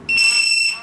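A TD175 pager system gives one sustained, shrill electronic beep alert, close and loud and lasting under a second, with a quiet voice nearby.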